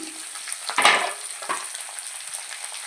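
Onions, tomatoes and tamarind fry in a pan for a tomato-onion chutney, a steady hiss broken by a brief louder burst of sizzle as the pan is stirred, close and moderate in level, with no voices.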